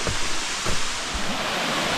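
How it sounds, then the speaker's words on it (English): Waterfall along a mountain hiking trail in winter, a steady broadband rush of falling water heard from a distance, with a few faint bumps. "Oh, it's our waterfall or something."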